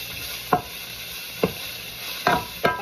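Bacon frying in a pan gives a steady soft sizzle, broken by four sharp stirring clatters of a utensil spaced irregularly, close and with no voices.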